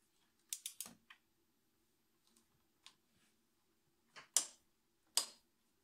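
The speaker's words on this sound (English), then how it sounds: "So I have my torque wrench set to 20 Newton meters. And I have my 16 millimeter socket. And I'm going to torque the first bolt." A torque wrench on a 16 mm socket tightening a timing chain bolt on a BMW N42/N46 engine to 20 Nm, giving a few sharp ratcheting ticks, then two distinct loud clicks near the end, with quiet gaps between.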